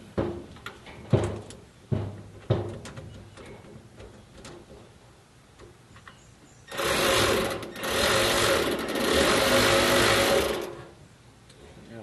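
Milwaukee power tool loosening bolts on a car's fuel pump during a fuel pump install on a Buick Regal; several short sharp clicks and knocks, then two long loud sustained whirring bursts, close up.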